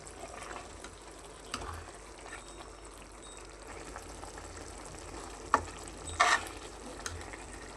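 Prawn thokku simmers covered in the pan, cooking in the water released by the prawns, with a soft, steady bubbling hiss and a few brief clicks and pops, and no talking.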